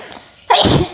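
A single loud, close sneeze set off by spice tempering in a kitchen, a short breathy intake followed by a sharp explosive burst.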